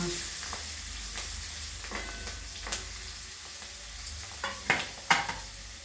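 Onion frying with curry leaves and green chili in a pan, a continuous crackling sizzle with scattered pops and spatters that grow sharper toward the end.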